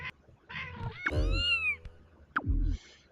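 A cartoonish cat meows a few times in the puzzle platformer Braid, loud and close, with short gaps of quiet between the calls and no voices.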